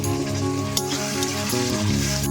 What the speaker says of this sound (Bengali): শুকনো লঙ্কা বাটাটা দিয়ে দেবো ভালো করে মশলাটা একটু নেড়ে নেব